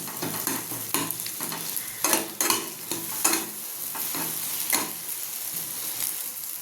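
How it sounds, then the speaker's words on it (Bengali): Scrambled egg sizzles in a pan for chowmein while a spatula scrapes and clacks against the metal in quick repeated strokes, close up, over a continuous frying hiss, with no talking. "এবার ডিমটা বুড়িয়া করে মিশিয়ে দেবো। একটু লাল করে ভেজে নিই।"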